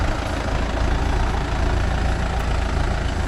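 A Mahindra Yuvo Tech Plus 585 DI 4WD tractor engine runs steadily and loudly up close, a constant low diesel rumble with no speech.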